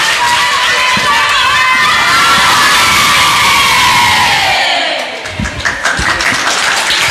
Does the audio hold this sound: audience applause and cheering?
yes